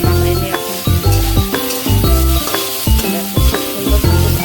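Food fries in a pan with tomato sauce, a close, steady sizzle broken by regular scraping and clinking strokes of a spoon stirring roughly twice a second.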